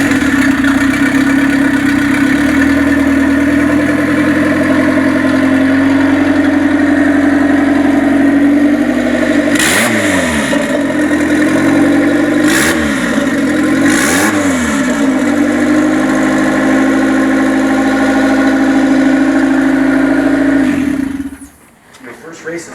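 A Honda Civic EG engine runs loud and close with a steady drone. Three quick rev bursts come in the middle, and the engine cuts off abruptly at the end. A voice is faintly present.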